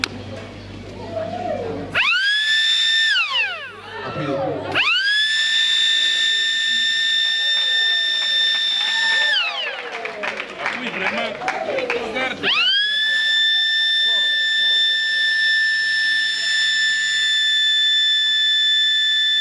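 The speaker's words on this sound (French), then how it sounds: "Et nous allons commander la sirène à l'aide d'un bouton poussoir." An electric school siren started with a push button wails loudly in several rising blasts, cutting off and restarting before holding a sustained howl, with voices under it.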